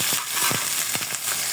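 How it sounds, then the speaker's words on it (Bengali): Onions with black pepper, cardamom, cinnamon and ginger-garlic paste fry in a pan, a close, dense sizzle with a few soft scraping stirs, brief and steady with no talk. "এগুলো দিয়ে আর একটু কষিয়ে নিচ্ছি।"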